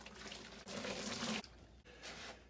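Very hot water runs from a tap for washing Cat 60 tractor parts with soap, a soft steady splashing stream that stops briefly and resumes, fairly quiet.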